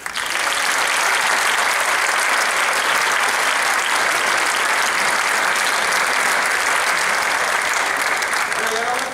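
Audience applause rings out at a charity benefit concert, a thick, even roar of many hands clapping at full volume throughout, close and sustained without pause.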